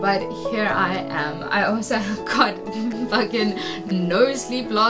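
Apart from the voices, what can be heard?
No everyday noises stand out.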